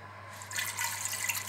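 About 25 centilitres of water goes into a cooking pot for pork with potatoes and saffron, a soft, close, continuous pouring splash that starts after a short quiet moment.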